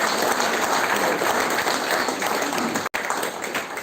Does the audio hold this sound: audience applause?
yes